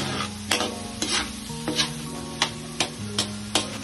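Pasta sauce sizzles in a pan under a regular rhythm of stirring strokes, each scrape rising briefly above the steady hiss, close up.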